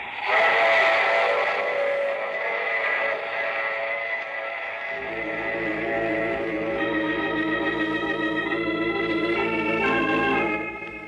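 A steam train from a 1949 radio drama sound effect: a loud chuffing locomotive whose long, layered steam whistle blows for several seconds, with the harmonic chord sustaining as the train rumbles beneath.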